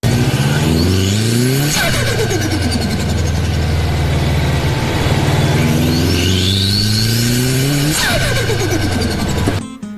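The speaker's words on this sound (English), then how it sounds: "That's the blow-off valve making all the right noises, which makes all car enthusiasts turn their head." Turbocharged car engine revving and dropping, with the blow-off valve venting pressurized air in sharp whooshing bursts between loud, steady engine tones rising and falling in pitch, close by and with no talk.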